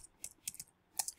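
Computer keyboard typing during Python coding, a few close, crisp key clicks in short clusters, ending with a sharper press of the enter key, with no voice.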